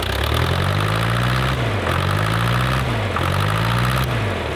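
The old 4-litre naturally aspirated engine of a drift car revs up and down in three repeated rises, a loud, close, throaty drone with no talking.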